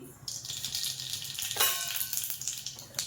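Half a spoon of mustard seeds fries in a little oil for samosa filling, a bright close sizzle that swells suddenly with crackling spits.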